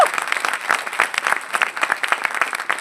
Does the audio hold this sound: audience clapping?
yes